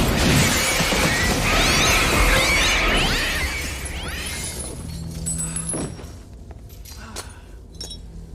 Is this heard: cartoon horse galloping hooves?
no